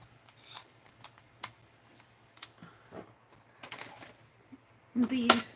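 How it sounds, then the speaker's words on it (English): Metal scissors are set down and put away among craft supplies, a series of light clicks and taps spread out over a quiet room, ending in a louder clatter. "Just put my scissors away."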